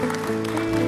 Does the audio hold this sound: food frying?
no